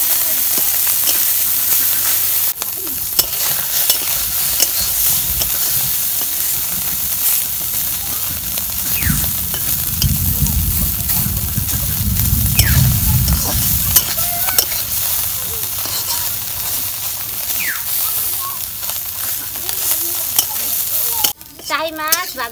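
Taki fish fry in hot oil with a steady close sizzle and hiss, occasional stirring scrapes, and a swell of bubbling in the middle, with a few brief words spoken near the end.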